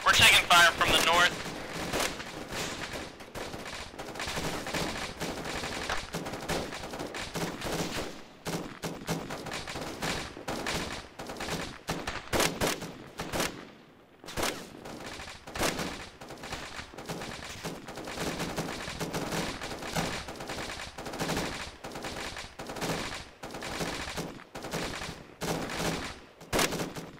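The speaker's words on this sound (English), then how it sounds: "We're taking fire from the north." Sustained gunfire in a military video game during squad training, with dense rapid bursts and scattered single shots crackling almost continuously, under frequent radio-style voice chatter between players and a brief lull midway.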